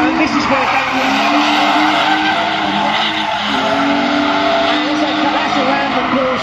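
A Ford Sierra drift car skids through the last turn at a drift day, its tires squealing in a continuous loud screech over engine revs, with a commentator talking over the sound.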